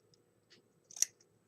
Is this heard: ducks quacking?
no